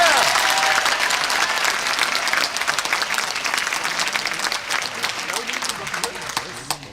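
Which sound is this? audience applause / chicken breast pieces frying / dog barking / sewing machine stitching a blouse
audience applause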